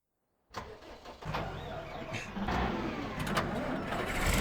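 A tractor engine in Farming Simulator 2013 cranks to life and settles into a steady mid-pitched rumble that grows louder and fuller as it revs up.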